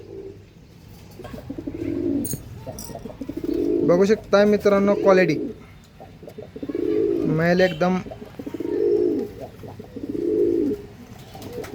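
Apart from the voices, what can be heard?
Andhra line pigeons cooing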